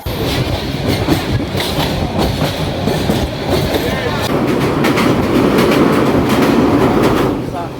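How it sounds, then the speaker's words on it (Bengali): A night train bound for Sylhet rumbles along steadily, wheels clattering in a rhythmic clickety-clack over the tracks, loud and close, with a constant rushing roar. "রাতের এই ট্রেনের সাউন্ডটা আমার কাছে খুবই ভালো লাগে"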